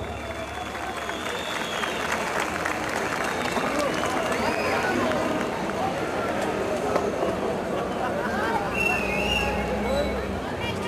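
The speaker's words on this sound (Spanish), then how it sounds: "El aplauso para esta agrupación bandística de San Pablo," An audience applauds the municipal band of San Pablo, Bolívar, after a performance: sustained clapping and crowd noise lasting several seconds, moderately distant, with a few voices and whistles mixed in.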